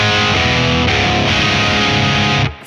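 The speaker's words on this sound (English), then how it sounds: "So there's some really nice crunchy Kraken tones for the ambient soft pick stuff" A crunchy, distorted electric guitar through a Kraken pedal in a small, loud rig rings out with thick sustained chords, strongly saturated and steady, then cuts off abruptly near the end.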